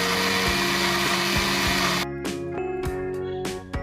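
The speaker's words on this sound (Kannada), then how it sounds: "ಈಗ ಎಲ್ಲ ಮಿಕ್ಸಿಗೆ ಹಾಕಿ ಚೆನ್ನಾಗಿ ರುಬ್ಕೋಬೇಕು" Mixer grinder grinding roasted coconut masala with spices for mutton curry, a loud steady motor whir for two seconds, then short bursts of grinding with pauses between, close and without talk.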